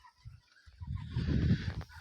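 A young Shamo-cross rooster, hatched on 21 March, gives a short, low, throaty call that swells and then fades. It is close and fairly quiet.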